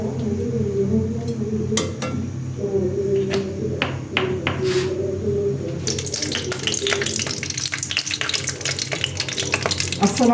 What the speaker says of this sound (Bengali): 4টা শুকনো মরিচ প্রথমে ভেজে নেব